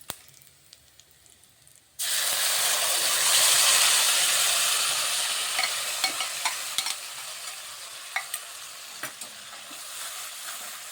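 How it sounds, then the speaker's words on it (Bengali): Spice paste stirred with cumin into hot oil already seasoned with asafoetida for a winter mixed-vegetable dish. It bursts into a loud, close sizzle after two seconds of near silence, then slowly eases, with light stirring clicks scattered through. "মশলাটা একটু কষিয়ে নিচ্ছি ভালোভাবে।"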